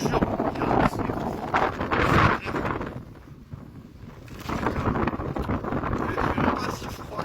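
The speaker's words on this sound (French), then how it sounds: "C'est vraiment un vent glacial." Icy wind blows hard into the microphone, with a loud, rumbling buffeting that gusts strongly, eases for a moment, then picks up again.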